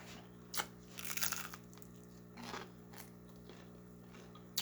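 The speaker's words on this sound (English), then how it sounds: "Listen to that crunch." Crunchy fried chicken with a crisp crust being bitten and chewed, giving a few close, sharp crackly crunches spread across a quiet moment with no talking.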